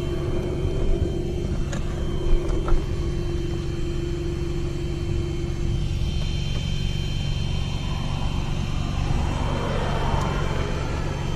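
An Xray T3 2S electric RC car on a 121 mph speed run, a constant motor whine and rumble that runs steadily throughout with a few faint clicks, no voices.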